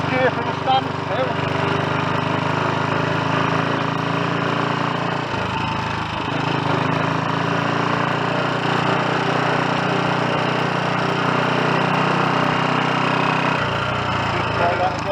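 A Royal Enfield Olympic 250 motorcycle engine runs steadily and loudly through a gear-change test, holding an even, rough drone that dips briefly around the middle before carrying on.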